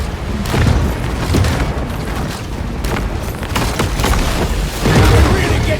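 Torpedo blasts in the Maneater shark game, with repeated deep booming explosions rolling over a dense rumbling background and a heavy burst near the end.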